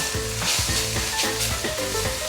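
Preserved mustard greens (mei gan cai) stir-fried with bitter melon in a wok, a continuous loud sizzle with tonal music playing over it.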